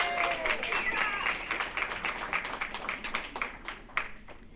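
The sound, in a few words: audience applause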